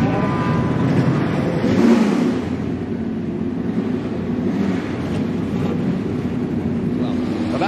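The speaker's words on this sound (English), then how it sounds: "Drivers, start your engines!" NASCAR Xfinity Series race cars firing up and revving at the start of the Ag-Pro 300, a loud, steady, broad engine roar with wind buffeting and faint crowd or voices mixed in.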